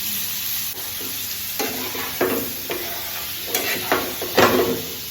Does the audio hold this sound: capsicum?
yes